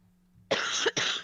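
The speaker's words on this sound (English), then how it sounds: "Other than a cough." A quiet hum gives way to two sharp, close coughs in quick succession, loud and breathy.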